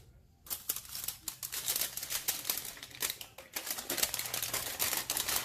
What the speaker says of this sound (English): bear with me while I tear this piece in half